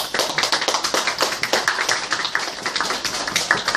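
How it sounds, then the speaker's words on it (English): An audience applauds to welcome a guest lecturer at an English-teaching talk, with dense, steady clapping that carries on through the whole stretch without a voice over it. "please join me welcoming my friend, Dr. David Schaefer, with a round of applause"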